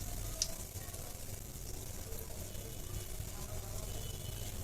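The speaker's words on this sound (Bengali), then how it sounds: "এখন বোনেরা সবগুলো একে একে ভেজে নেই।" Chicken-feet pakoras fry in oil, a soft, steady sizzle running throughout under a low background rumble.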